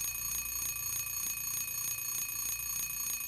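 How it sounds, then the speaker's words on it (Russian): An alarm clock in the video game Silent Hill 3 rings with a steady, rapidly pulsing metallic trill that repeats evenly throughout, moderately loud with no talk over it. "Будильник зазвонил, пора вставать трупу."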